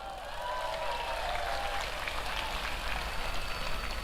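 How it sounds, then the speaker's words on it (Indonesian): An audience applauds at a public gathering in Depok, a steady, faint wash of clapping that carries on alone throughout. "Tepuk tangan dong."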